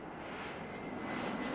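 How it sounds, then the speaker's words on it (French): An airplane passes overhead with a broad, steady roaring drone that swells slightly, distant and continuous with no voices. "C'est un avion qui passe au-dessus d'elle."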